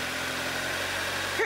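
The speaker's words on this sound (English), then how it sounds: "We jump-started a car!" A student's jump-started car engine runs at a steady low idle with an even rumble and vibration, faint and brief, with a little sound at the very end.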